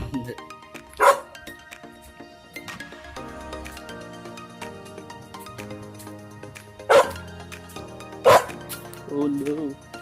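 A dog barks in three loud, close bursts spaced several seconds apart, with music playing underneath and someone talking.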